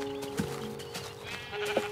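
Two short sheep bleats from Minecraft, one early and one near the end, fairly faint and clear against a quiet game background.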